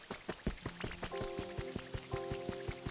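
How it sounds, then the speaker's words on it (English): Rain falls in the video game Pokopia, a soft patter of drops under rhythmic game sound effects and musical tones, with steady hiss throughout. "I love the sound of rain."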